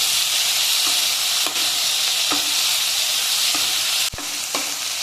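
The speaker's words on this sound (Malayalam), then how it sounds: "ഈ തക്കാളിയൊക്കെ ഇതിൽ കിടന്നിട്ട് നന്നായിട്ടൊന്ന് വെന്ത് സോഫ്റ്റായിട്ട് വന്നോട്ടെ" Tomatoes and onions sizzle and fry steadily in a pan for a spicy chutney, a continuous close hiss broken by a few soft stirring scrapes, with no talking.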